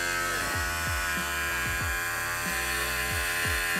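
Electric hair clippers set at 9 mm buzz continuously and loudly up close, their steady hum dipping rhythmically as the blades pass through hair during a home haircut.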